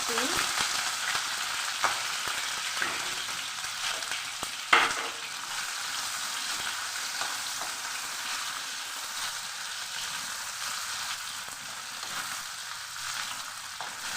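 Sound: dried fish (shutki) frying in hot oil with mustard seeds

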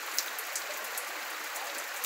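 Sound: heavy rain falling in Joaquim Gomes, Alagoas

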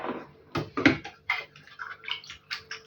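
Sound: cherry juice draining from strained cherries

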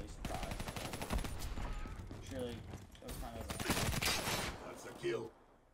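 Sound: CUDA gunfire in Black Ops 3 video game

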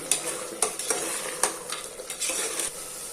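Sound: stirring mutton masala gravy in a pan

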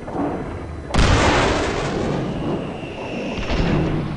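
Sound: landmine explosions in video game Far Cry 4

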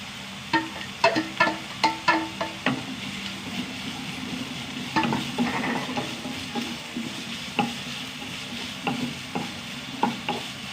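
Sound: green chillies, ginger and garlic sautéing in a pan

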